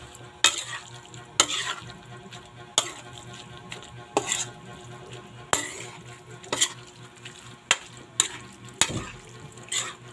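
A seasoned sauce is mixed in a pot, with a spoon scraping and knocking against the sides in regular sharp clanks about once a second, over quiet background noise.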